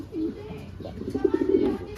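A pigeon coos in a rough, throaty run of short pulses that builds toward the end, fairly close, with background noise and no speech.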